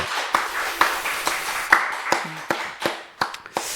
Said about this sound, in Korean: 우리 하나님 앞에 영광의 박수 올려드립니다.